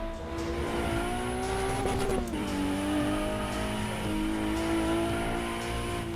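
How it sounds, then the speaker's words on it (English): A race car's engine revs hard in the Assetto Corsa EVO racing game, with turbo, exhaust and rev-limiter sounds. The loud, continuous drone dips in pitch midway, then climbs again and holds. "The two-step, the limiter, the turbo, the exhaust, the engine RPM, sounds so good."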